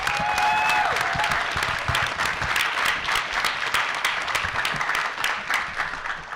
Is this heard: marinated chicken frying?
no